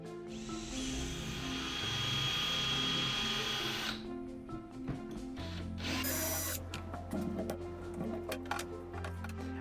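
Power drill running in bursts through wood while pocket holes are bored with an inexpensive Kreg pocket hole jig for a mobile miter saw cabinet; a steady whine gives way to rattling, uneven drilling, close and loud, with no talk.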